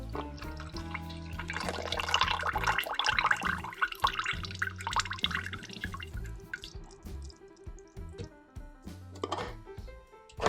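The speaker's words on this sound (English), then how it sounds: "Then we're gonna put the liquid in here." Liquid from a can of chickpeas, aquafaba, is poured into a container. It makes faint, close trickling and dripping sounds over a few seconds against a quiet kitchen background, with no talking.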